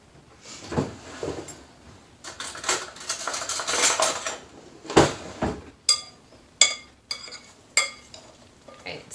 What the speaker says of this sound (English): So mix that up, make sure that all the vegetables are coated in that oil.